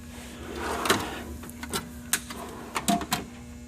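Metal tool box drawer holding fuel line disconnect tools, opened or closed in a series of sharp clatters and slides spread over a few seconds, close and fairly loud over a steady hum.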